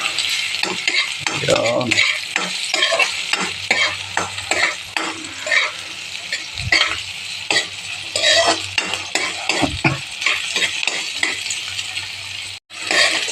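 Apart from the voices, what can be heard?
sautéing garlic, onion and ginger in a pan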